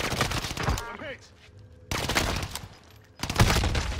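Sniper gunfire during a battle royale match comes in loud bursts of sharp cracks, with shorter quieter gaps between them and a final heavy burst near the end.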